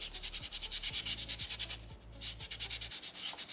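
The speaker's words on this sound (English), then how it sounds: "I'm going to sand this everywhere" Sandpaper rubs over a small soapstone orca carving in quick, rhythmic back-and-forth strokes, close and fairly quiet, a steady scratchy sanding with no voices.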